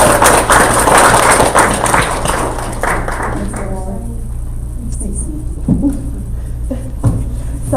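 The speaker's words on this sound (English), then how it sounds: "let's give her a round of applause as she comes" Applause from attendees at a town board of commissioners meeting, a dense wash of clapping that fills the first few seconds and then thins out, followed by scattered taps and quieter room sounds.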